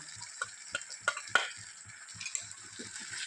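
A spoon stirs a ground dried chili and sesame paste into a sizzling tempering in a pan, with soft sputtering and a steady series of light taps and scrapes, close and without talk.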